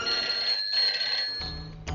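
A phone rings with an incoming call, a steady electronic ringtone with a sustained bright tone that drops out briefly partway through, then gives way to a low rumble and a sharp return near the end; no speech.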